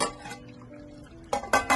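Chicken pieces with taro and spices are turned in a metal pot, producing a quick series of close, bright utensil clinks and scrapes, with a short pause between bursts.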